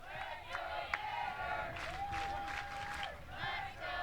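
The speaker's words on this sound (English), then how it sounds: "Crowd starting to get into it after that first pitch swing from Mia Williams" A college softball stadium crowd cheers and yells during a Florida vs Arkansas final, a sustained mid-distance roar with whoops and scattered claps, while a commentator talks over it.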